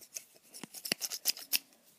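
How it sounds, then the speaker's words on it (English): Sharp scissors snipping while making an R2-D2 third leg, a quick series of crisp, close cuts in an uneven rhythm, each a short bright snip with small pauses between. "you'll need scissors or pliers"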